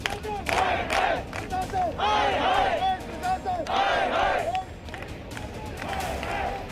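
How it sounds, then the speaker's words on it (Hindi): Protesting nurses on strike at AIIMS hospital clap and chant slogans in unison, rhythmic rounds of group shouting and clapping rising and falling in repeated bursts, loud and outdoors. "ताली बजाकर नारेबाजी हो रही है।"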